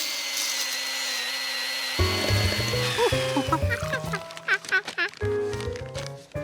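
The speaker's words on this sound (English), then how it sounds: "there be a chainsaw in Mabel's?" Cartoon chainsaw sound effect: a buzzing, ratcheting power-tool whine that starts abruptly partway through and sputters in bursts alongside bright musical tones.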